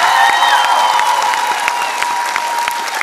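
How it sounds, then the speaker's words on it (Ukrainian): Studio audience applause on the X-Factor live final: a dense, steady wash of many hands clapping at moderate loudness, with faint cheering and some background music tones. "Аплодисменты Шурову."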